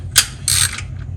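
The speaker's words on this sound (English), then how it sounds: "You get your swivel on here, and you start tightening" A ratchet with a swivel extension tightens bolts during a TH-350 transmission installation in a 1965 Nova, giving two brief, close metallic clicking bursts over a low background hum.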